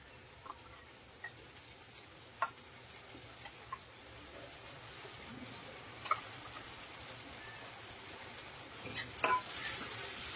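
Soaked cashews sauté in a pan with onion and tomato, a soft steady sizzle broken by sparse ticks and scrapes of a spoon stirring, growing busier toward the end.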